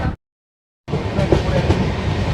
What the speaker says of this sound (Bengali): চলুন ট্রেনের ভিতরটা আপনাদেরকে একটু দেখিয়ে দিই কীরকম অবস্থা রয়েছে। এই হচ্ছে কোচ পজিশন, ট্রেন মোটামুটি ভর্তি রয়েছে।